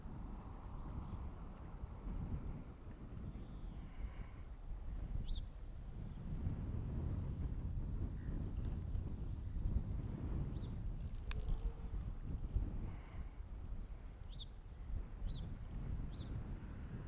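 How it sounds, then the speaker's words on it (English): Steady outdoor wind rushes across the microphone as a model glider flies, a broad continuous roar with a few faint high chirps over it. "There's a bit more wind."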